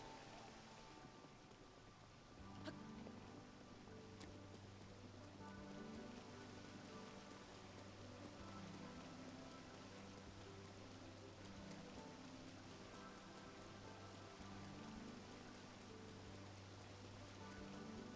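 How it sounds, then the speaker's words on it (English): Steady rain in Zelda: Breath of the Wild pattering on surfaces, starting after a couple of seconds and holding as a constant wash with game music underneath. "And now it's fucking raining."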